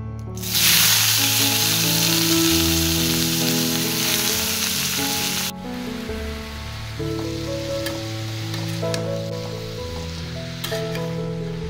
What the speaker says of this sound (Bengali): তো এবারে আমি তেলের মধ্যে লাউগুলোকে দিয়ে দিচ্ছি।